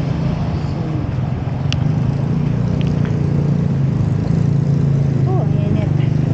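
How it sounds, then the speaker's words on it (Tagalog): Motorcycle engine running steadily at close range, a low continuous drone with brief faint voices over it. "gagamitin yung ating motor."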